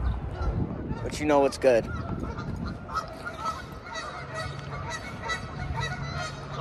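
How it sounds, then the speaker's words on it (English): Canada goose honking outdoors, a few loud nasal honks bunched near the start over steady background noise, with someone talking at moments. "But I'm here with my boy Canada Goose."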